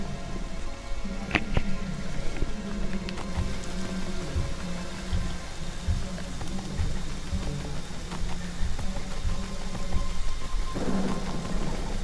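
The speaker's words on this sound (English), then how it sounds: "the rain makes everything so foggy" Rain in a video game pours down steadily with a dense, hissing patter, while a repeating low rumble and thunder-like swells roll underneath throughout, with a brief sharper crack near the start and a louder surge toward the end.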